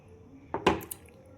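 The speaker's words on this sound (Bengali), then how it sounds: "কন্টিনিউ এটা নাড়াতে হয়, না নাড়ালে এটা জমে যাবে নিচে থেকে।" A spoon stirring firni, a rice pudding, in a pot, making a brief cluster of two or three close metallic scrapes and clinks against a quiet kitchen background.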